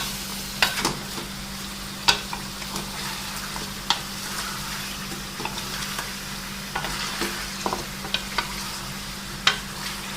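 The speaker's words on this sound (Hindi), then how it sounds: "इसको अच्छी तरह फ्राई करना है।" Chicken karahi fries in oil in a commercial-style kitchen pan, giving a steady close sizzle marked by frequent sharp scrapes and clinks of stirring.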